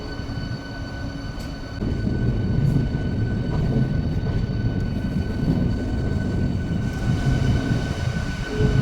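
A train rumbles along steadily, low rolling clatter and hum of the carriage growing a bit louder after a couple of seconds, with faint squeaks above.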